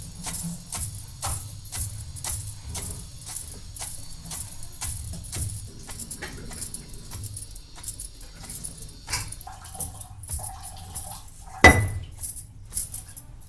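Dry peanuts being pounded into coarse pieces for a dry chutney powder, a steady run of sharp, clinking knocks repeated in an even rhythm, close and fairly loud, ending in one heavier strike.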